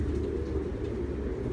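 Homing pigeons in a loft giving soft, low, continuous cooing, faint and steady for a moment.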